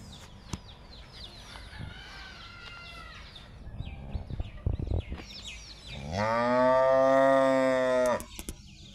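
A cow in a Barisal village lows loudly in one long, strongly harmonic moo near the end, after quieter ambient sounds and a few faint earlier calls.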